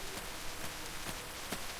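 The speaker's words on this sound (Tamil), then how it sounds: "பின்னே மழை பெய்து கொண்டிருக்கிறது." Monsoon rain falling in a Kerala village, a steady hiss of drops on surfaces with a few sharper patters, soft and continuous in the background.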